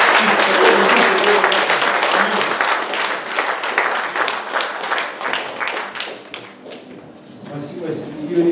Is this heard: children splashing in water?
no